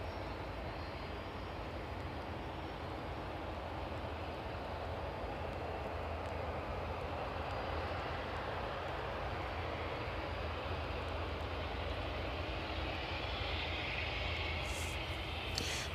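A jet airliner rumbles on a fog-covered runway at East Midlands Airport on a misty evening, a broad steady roar heard from a distance that holds constant throughout, no voices.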